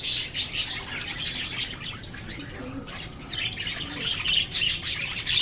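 Pet parakeets in a growing flock chirp and squawk constantly, a busy overlapping chatter of high calls that swells toward the end, with a faint flutter of wings.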